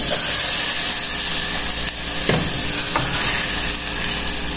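Black-eyed beans hitting hot pork lard in a pan, a steady loud sizzle and frying hiss with a few soft stirring scrapes, close and continuous.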